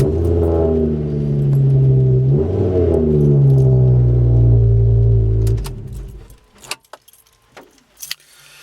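Ford Focus ST Mk2 with a remapped engine starting up, then idling and revving loudly for several seconds before switching off, followed by a few clinks and rattles of keys.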